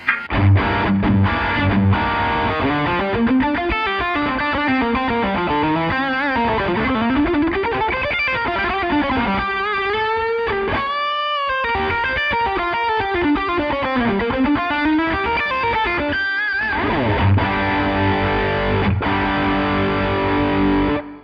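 Heavily distorted electric guitar plays continuously through a 100-watt Marshall amp, thick and saturated, with sustained chords and bending melodic lines, loud and close.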